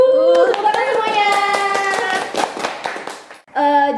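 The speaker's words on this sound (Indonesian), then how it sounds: "Tepuk tangan semuanya." An audience claps in scattered bursts at a university event for the Faculty of Nursing, Universitas Jember, mixed with a bright musical jingle, before a short pause and a tonal sting.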